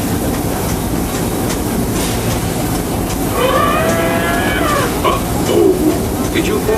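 The Disneyland Railroad train rolls along in a loud, steady rumble with rhythmic clickety-clack from the wheels and a brief metallic squeal midway, heard from on board.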